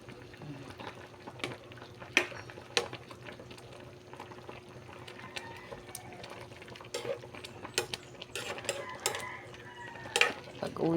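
A ladle working through a simmering pot of fish soup, bubbling liquid under intermittent clinks and scrapes against the pot, fairly quiet and close, with scattered sharp knocks.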